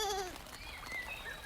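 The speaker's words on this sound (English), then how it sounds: "A herd of goats, long beards and stinky, rise as one and bound up the hillside." Goats in a herd on a farm hillside give a few faint bleats at a distance over a low outdoor background, with no one talking.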